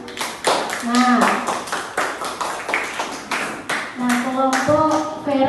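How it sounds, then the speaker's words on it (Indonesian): A class of students clapping hands during a teacher training lesson, irregular bursts of claps mixed with voices talking and calling out over the clapping. "Oke, kasih tepuk tangan."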